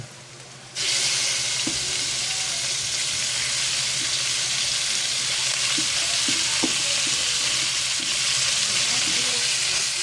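Ground pork hits a hot pan and sizzles loudly and steadily, with scattered clicks and scrapes as it is stirred throughout.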